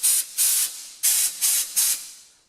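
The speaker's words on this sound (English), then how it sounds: "an air nozzle in there to blow things off" An air nozzle inside a blast cabinet fires five short, loud hissing bursts of compressed air in an irregular rhythm, close up, each cutting off cleanly, with no voices.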